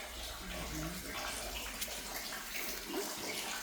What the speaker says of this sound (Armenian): Ջուրը սենց ինքը կոյուղի է, թե խմելու ջուր։